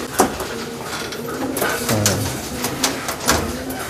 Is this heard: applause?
no